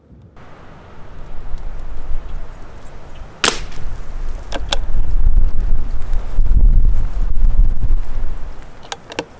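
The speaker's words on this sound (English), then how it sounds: "That's wind." Wind buffets the microphone at an outdoor shooting range, a low continuous rumble that swells louder through the second half, with a sharp crack partway through.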